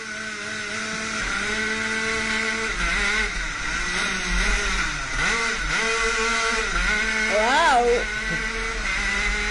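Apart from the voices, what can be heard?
Rotax karts racing from the start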